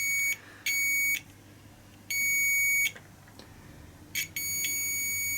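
A multimeter gives continuity beeps while probing the stator winding leads of a DENSO alternator: several sharp, steady electronic tones, some short and some held about a second, clear and fairly loud over a quiet room with no talking.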